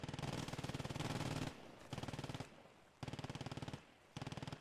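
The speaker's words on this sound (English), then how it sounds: "Looks like a German MG is firing." A German machine gun in a realism war video game fires several rapid bursts separated by short pauses, sounding somewhat distant and moderately quiet.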